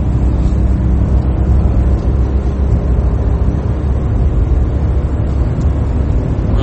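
Inside a Ford Ka SE entry-level car driving at speed, a loud, constant low road and engine rumble fills the cabin without letup, and no one speaks.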